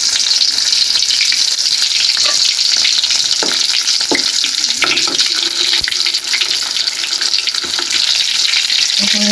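Dried chili sizzles and crackles in hot oil with onion and garlic, a constant bright frying hiss broken by clinks and stirring scrapes, close and loud with no talk.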